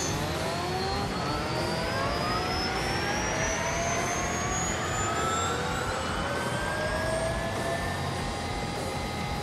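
A Rimac electric car launches in thrust mode in The Grand Tour video game, a loud continuous whine rising steadily in pitch as it accelerates hard, with layered tones sweeping upward over a dense rushing roar and no talking.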